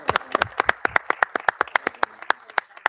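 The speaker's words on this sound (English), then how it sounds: "Let's have a round of applause for our outstanding Board of Education." A small audience at a Board of Education reorganization meeting applauds with sparse, distinct hand claps in an uneven rhythm, close and fairly loud, thinning out toward the end.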